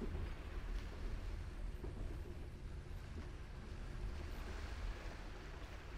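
Steady rushing water in the video game The Ghost Train fills the whole stretch, a broad continuous wash like surf or flowing water, even and unbroken with no voices.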